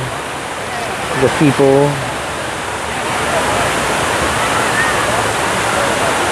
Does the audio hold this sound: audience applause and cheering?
no